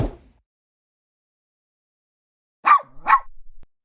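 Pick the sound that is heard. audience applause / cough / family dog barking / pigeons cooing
family dog barking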